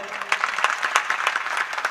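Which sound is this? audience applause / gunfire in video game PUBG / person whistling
audience applause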